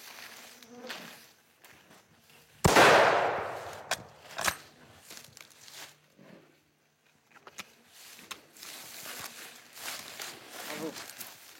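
Rifle gunshot during a hunt in Africa, one sharp close crack with a decaying tail, surrounded by quiet outdoor sounds, footsteps and low talk.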